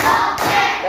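In a classroom counting clap game, pupils give a brief, sharp burst of hand claps that lands as a quick, loud thud-like smack.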